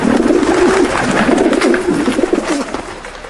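White doves cooing loudly and close, a soft repeated throaty call that carries on through a few seconds with no talking over it.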